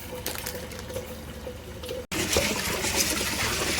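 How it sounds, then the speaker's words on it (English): Red kidney beans being washed by hand in water, with close sloshing and trickling, a short break, then a louder rush of running water. "red kidney beans, about half of it, and I'm going to wash it like about 3 times"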